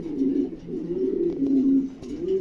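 Pigeons coo steadily and close by, a low rolling murmur of overlapping calls with no talking.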